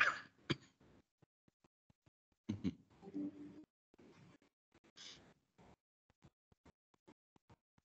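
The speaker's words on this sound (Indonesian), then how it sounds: "Ini batuk makan gorengan nih gara-garanya." Indoor online meeting where a few short coughs and throat clearing sounds come at the start and around the two-and-a-half second mark, followed by quiet gaps with faint light clicks and little else.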